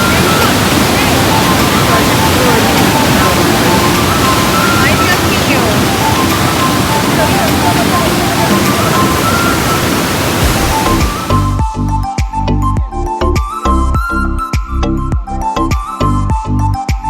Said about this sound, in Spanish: Vamos hacia la cascada El Pailón, es uno de los sitios más turísticos que tiene Baños.